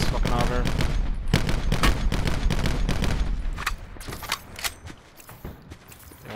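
Rapid bursts of video game gunfire from an online shooter, loud and close with dense repeated shots, thinning to scattered single cracks toward the end.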